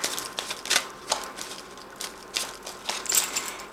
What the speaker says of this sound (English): So blow on the 4 corners, and then you shuffle the cards.